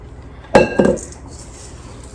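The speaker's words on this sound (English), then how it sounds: "I'm gonna put in about quarter of a bag of the toffee pieces" Toffee pieces tumble into a bowl of toffee chocolate chip cookie dough in two quick, close clattering bursts, then a quiet bowl settles.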